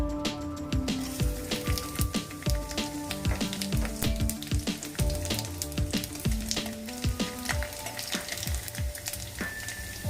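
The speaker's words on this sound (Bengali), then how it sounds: "ফোড়নটা একটু ভাজা ভাজা হবে" Bay leaf, dry chillies and garlic fry in hot oil with a continuous crackling sizzle, dense popping spatters scattered throughout, steady and close with no talking.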